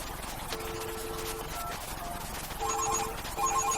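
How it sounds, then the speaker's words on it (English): A military field phone rings in short bursts, a buzzing electronic trill that repeats twice against a noisy room background, fairly close and moderately loud. "Phone's ringing right there."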